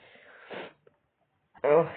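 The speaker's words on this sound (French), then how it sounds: "si vous m'entendez renifler, c'est que je suis un peu malade ou je suis enrhumé" Two short sniffs from someone with a cold, close to the ear, a soft one early and a stronger, wetter one near the end, with quiet between.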